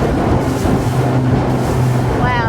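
A Lomac 12.5GT speedboat powered by three Mercury V8 outboard engines, 900 hp total, running at speed through waves: a loud, constant engine roar with rushing water and wind buffeting throughout.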